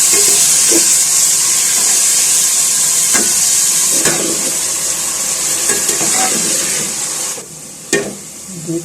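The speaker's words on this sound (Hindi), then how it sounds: "अब इसमें मैं कटी हुई 3 से 4 अदद प्याज डाल लूँगी।" Finely chopped onions, three or four of them, sizzle steadily in hot oil in a pan, a loud, continuous hiss broken by occasional clinks and scrapes of stirring, quieting briefly near the end.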